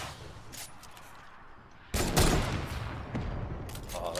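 Video game combat with rockets and sniper fire bursts into a loud, sustained volley of gunfire after a quieter start, dense and close.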